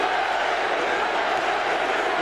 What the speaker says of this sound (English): The crowd chanting Larry Holmes